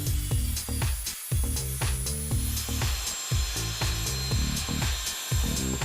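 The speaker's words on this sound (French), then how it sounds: "nous devons découper la partie décorative pour que le joint thermique" Decorative insulation board panel being cut with a close, rhythmic rasping sawing stroke repeated several times, each stroke a gritty scrape with short pauses between.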